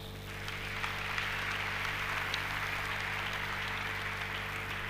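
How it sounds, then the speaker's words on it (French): A church congregation claps along in praise, a steady, dense wash of applause that swells in over the first half-second and holds at an even level throughout, with low hum underneath and no clear speech. "Acclamons Jésus."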